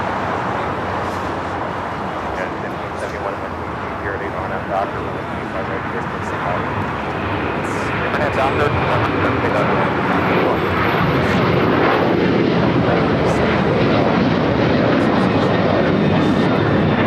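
An airliner touches down on runway 25L at LAX, a loud, sustained broadband jet roar that swells in the second half as it rolls out, with a voice talking over it.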